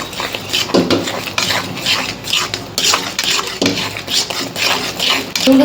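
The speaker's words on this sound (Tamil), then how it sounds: "இந்த தேங்காயை போட்டுருவாங்க. நல்லா கிண்டி விடணும்." Grated coconut is stirred into hot sugar syrup for laddoo, with a spoon scraping and knocking against a metal pot in uneven, repeated strokes, close and fairly loud.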